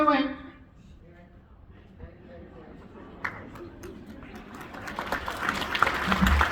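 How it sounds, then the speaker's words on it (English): A voice speaks, then an audience at a magic and music variety show gradually breaks into applause for the contestants. The clapping swells from faint scattered claps into a fuller wash by the end. "Round of applause. They did great."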